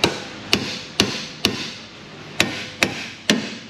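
A hammer taps on the metal sleeve of a car subframe bushing, seven sharp, ringing metallic strikes at a fairly even pace with one short pause, loud and close.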